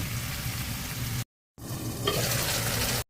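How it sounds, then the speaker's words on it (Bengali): Spiced masala fries with tomatoes in a pan for a salmon curry, giving a steady close sizzle with stirring. The sound cuts out briefly, then the frying returns just as loud. "মশলা কষানো হয়ে গেছে, এবার টমেটো দিয়ে দিচ্ছি।"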